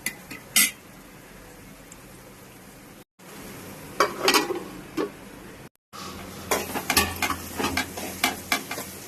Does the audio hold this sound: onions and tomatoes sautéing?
yes